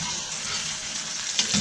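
Thick ribeye steak searing and basting in butter in a vintage Griswold cast iron pan, a steady close sizzle with a brief spatter near the end.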